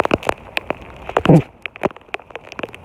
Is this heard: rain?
yes